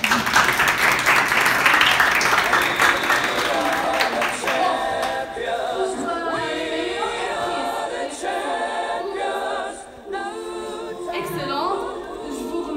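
Audience applause at a French cultural club sketch show in Tunisia, as acting awards are announced. The dense clapping is loudest in the first seconds, then thins beneath voices and other sounds for the rest of the clip.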